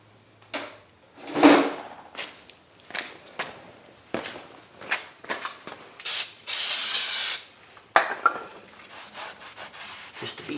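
Front brake rotor of a 2016 Kia Sorento being cleaned: a run of short, close wiping and rubbing strokes, with one sustained hiss of spray partway through and no talking.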